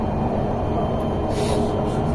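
A metro train runs with a constant, loud, low rumble of wheels and carriage, heard steadily throughout with no voices.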